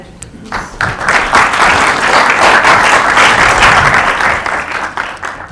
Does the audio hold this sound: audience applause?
yes